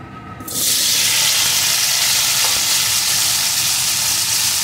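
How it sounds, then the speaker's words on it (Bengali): Cut potato pieces dropped into hot oil for a bittergourd fish curry burst into a loud, steady sizzle after a brief quiet moment, frying continuously close by with no talk. "এখন এই তেলের ভিতরে দিয়ে দেবো টুকরো করে কেটে রাখা আলু"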